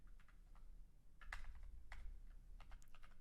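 Code being typed on a computer keyboard, with quick, irregular clusters of crisp key clicks close by and a low hum beneath, with no voice.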